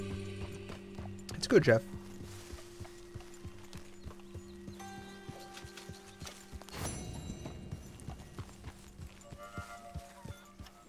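Horse hooves clip-clop in Red Dead Redemption 2, a steady, fairly faint walking rhythm under a low droning hum, with a short whinny and someone talking briefly.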